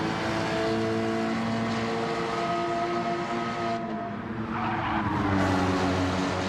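A Porsche race car in a sim racing game at Brands Hatch during qualifying, its engine droning steadily with shifting harmonic pitch, tire scrub and skid noise rising toward the end, loud and continuous with no talk.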